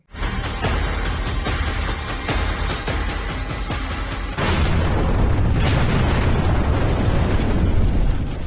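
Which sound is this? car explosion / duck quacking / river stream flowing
car explosion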